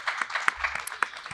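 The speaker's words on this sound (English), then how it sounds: "have you join me to clap" Audience at a Jewish school graduation convocation applauds, a soft, dense wash of many hands clapping with a few sharper individual claps standing out, moderately distant and fairly quiet.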